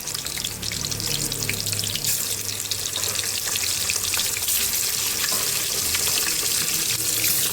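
Medium-sized fish pieces, heads removed, fry in hot oil with a loud, steady, dense sizzle that keeps an even level throughout.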